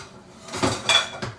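A pan of beets and green beans with butter and salt goes into a home oven, giving a few clanking metal knocks, with two louder clinks close by and a last softer bump, no talking.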